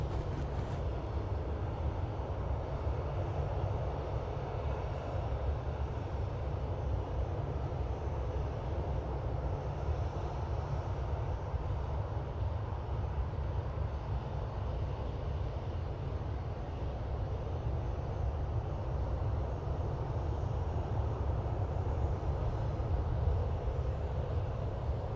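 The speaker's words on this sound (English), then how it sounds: "it looks like it's the Aer Lingus A380 coming in from Dublin" An Aer Lingus Airbus A380 comes in to land with a steady, distant low roar of jet engines that holds evenly throughout with no voices.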